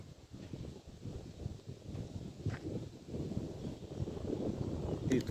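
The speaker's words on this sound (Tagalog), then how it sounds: "Sarap ng hangin." Wind blows outdoors as a continuous low rumble and buffeting against the microphone, with faint rustling. It is fairly quiet and slowly grows stronger, with no one talking over it.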